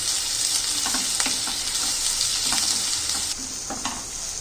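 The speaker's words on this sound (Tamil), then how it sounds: "வெங்காயம் ஒரு 2 நிமிஷம் வதங்கினா போதும்." Onions sautéing in a pan for an onion egg fry, a loud, steady close-up sizzle with faint scraping taps of a spoon stirring through it, no one talking.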